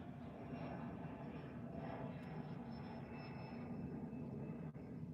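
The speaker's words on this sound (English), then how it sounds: "Oh, nope, that's a plane taking off." An airplane taking off sends a steady, broad jet roar across the whole stretch, constant and fairly loud at a moderate distance, with no speech over it.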